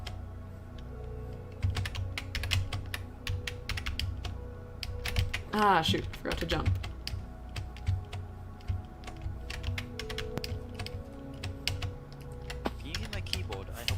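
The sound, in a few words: computer keyboard typing while playing a video game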